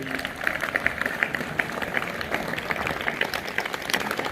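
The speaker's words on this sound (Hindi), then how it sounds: "तो जोरदार तालियां अरुण सर के लिए" A school audience at a Republic Day function at GSSS Hassanpur gives a round of applause for Arun sir, a steady, dense wash of clapping from many hands that holds evenly throughout, moderately loud with no voices standing out.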